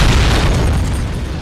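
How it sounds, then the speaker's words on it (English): A huge explosion rocks through the MI6 building in the film Skyfall, a loud, sustained rumbling boom with a heavy low end that fills the whole moment. "there a huge explosion rocks through"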